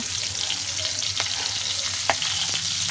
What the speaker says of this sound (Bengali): এইভাবে আমরা আলতো করে গ্যাস কমিয়ে নাড়তে থাকবো